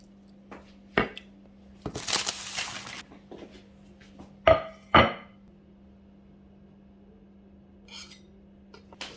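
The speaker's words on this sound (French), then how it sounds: "On va couper plus joliment pour mettre dans l'assiette." A knife cuts vegetables on a board for plating, a few sharp separate chops and taps spaced out, with a brief scraping rustle and a steady low hum beneath.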